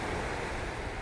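Surf washing steadily onto Kamari Beach in Santorini, a continuous broadband roar of breaking waves with some wind noise on the microphone, no voices, sustained and fairly loud throughout.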